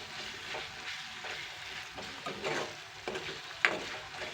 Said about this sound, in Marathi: आता टमॅटोसुद्धा मस्त भाजलेला आहे असा.